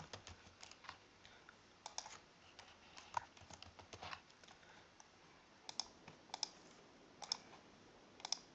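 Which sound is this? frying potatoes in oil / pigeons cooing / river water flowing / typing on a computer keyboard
typing on a computer keyboard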